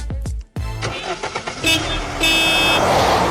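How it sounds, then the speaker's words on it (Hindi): A car door slams shut near the start, then an engine starts and a car pulls away out of a hotel parking lot, with a rising engine note and a brief horn toot over a rushing drone. "उसने अपनी गाड़ी का गेट बंद किया और होटल पार्किंग से निकल गया"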